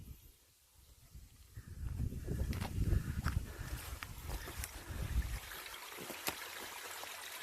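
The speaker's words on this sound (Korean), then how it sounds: "사계절 마르지 않는 계곡물이 졸졸졸 잘 흐르고 있습니다" Mountain valley stream running year-round in rural Andong, trickling softly and continuously in the background, joined by a few light scuffs and clicks nearby.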